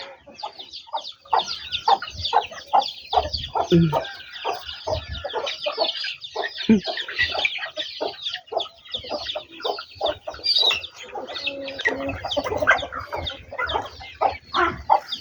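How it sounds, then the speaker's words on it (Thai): Small speckled chickens and larger ones cluck continuously and densely nearby, a lively overlapping chatter of calls lasting throughout, with a brief murmured voice. "ไก่ก็ประมาณนี้ตัวน้อยลายกว่าตัวใหญ่"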